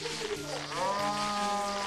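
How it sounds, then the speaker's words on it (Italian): A cow moos in the milking minigame of the video game 1-2-Switch. It is a single drawn-out, rising low moo, moderately loud, with faint talk underneath. "Che verso fa la mucca? Muggisce."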